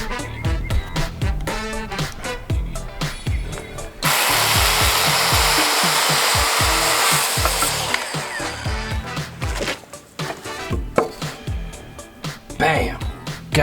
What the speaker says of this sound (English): I'm still trying to improve on my miter cuts.